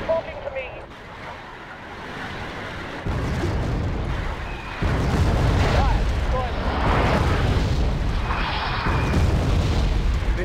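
Artillery barrages in the video game Wargame AirLand Battle, deep rumbling booms and bursts rolling in waves, growing heavier and more continuous toward the end.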